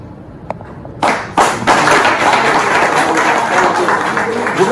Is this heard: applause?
yes